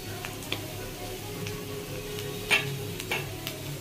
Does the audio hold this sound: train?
no